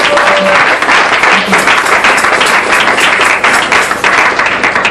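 A church congregation breaks into loud, sustained applause in acclamation during a sermon, a dense and continuous wash of many hands clapping close by that lasts the whole stretch.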